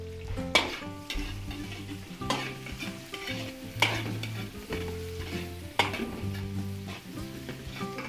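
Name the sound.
sautéing onions and chicken gizzards in a pan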